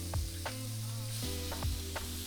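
Food sizzles while cooking, with a steady hiss of frying running throughout, faint and close, broken by a few soft clicks and knocks.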